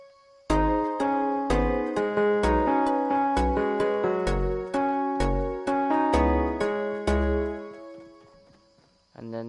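The second half of a song's pre-chorus plays on Fortnite music blocks in a video game, starting after a brief silence with punchy, evenly paced synth notes and booming bass thumps that trail off into a final sustained tone.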